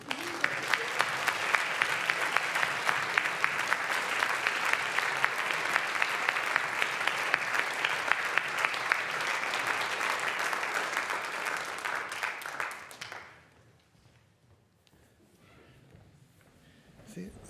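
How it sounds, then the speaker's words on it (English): Sustained audience applause at a translation prize ceremony, a dense clapping roar from a large crowd that fills the hall, holds steady, then stops abruptly near the end, leaving quiet room tone. "the applause for Howard Curtis is entirely"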